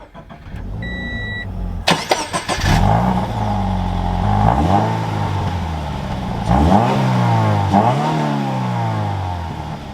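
Starter cranks the flat engine of a 2020 Subaru BRZ Limited with manual clutch, catching into a loud, close idle with a brief rev flare and settling; a few short chime beeps sound first.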